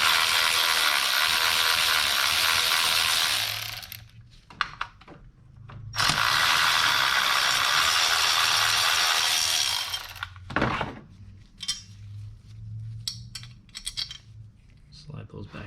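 Ratchet wrench loosening valve cover bracket bolts on a 2012 Honda Accord V6 engine, long stretches of rapid clicking ratcheting, close and loud, with brief pauses and a few clanks of tools and parts between bursts.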